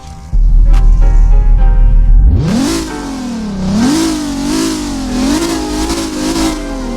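Infiniti G37 engine in a driving video game, a steady low drone that surges into a loud roaring rev with rising and wavering pitch, sustained and close with no talk.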